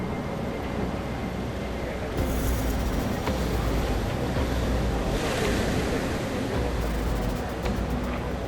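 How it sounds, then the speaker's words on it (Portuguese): Storm waves and roaring wind on the Arctic Ocean beside a ship, a constant heavy wash of surf with gusty microphone buffeting that surges louder in waves, no voices. "Uma tempestade no Oceano Ártico."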